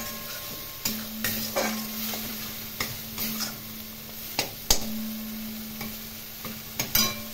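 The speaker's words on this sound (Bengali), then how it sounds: "মিডিয়াম ফ্লেমে নেড়ে নেড়ে আর অল্প জল দিয়ে দিয়ে কষিয়ে নিতে হবে।" Onion, garlic and ginger paste masala being stirred and fried over a medium flame, with faint sizzling under repeated scraping and clinking strokes of a spoon against the pan, and a steady hum throughout.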